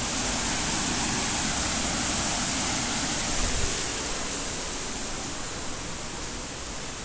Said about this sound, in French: Derrière il y a une cascade. Vous l'entendez sûrement.